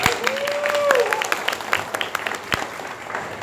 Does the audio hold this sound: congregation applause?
yes